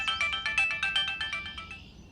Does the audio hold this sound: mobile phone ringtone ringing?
yes